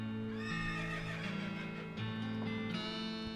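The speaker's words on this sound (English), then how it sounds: "That crazy horse is amusing." A horse neighs in the West of Loathing video game, with a long, clear whinny standing alone over a steady game background and faint hoof clip-clops.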